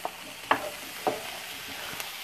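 Diced apples and onions sauté in a pan. A soft, steady sizzle is punctuated by three or four distinct stirring scrapes at roughly half-second intervals, close and fairly quiet, with no talking.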